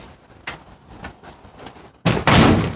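A door bangs shut in a backyard cooking area: a sharp, loud slam followed by a brief rattle, standing out against a quieter background with a few lighter knocks just before.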